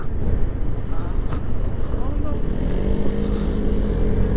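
A Vespa Primavera 150 scooter with a Malossi variator kit accelerating at full throttle, its engine buzzing loudly and rising in pitch over wind noise, with a voice briefly heard beneath.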